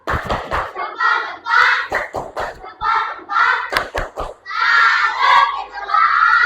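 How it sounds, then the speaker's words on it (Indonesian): A fifth-grade elementary classroom performs a rhythmic salute clap: sharp, close hand claps in a patterned beat, with the children shouting and chanting in unison between the claps. "Kita beri tepuk salut."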